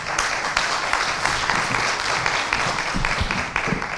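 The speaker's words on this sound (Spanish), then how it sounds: "Un aplauso lo recibimos al vicepresidente" An audience at the Casa del Matriculado de Capital Federal applauds the vice president, a steady, fairly close burst of many hands clapping without a break.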